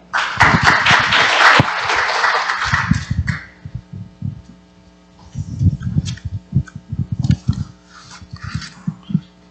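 An audience at a conference forum breaks into loud applause welcoming a speaker, dense clapping at first that thins out into scattered claps and then a second, sparser round.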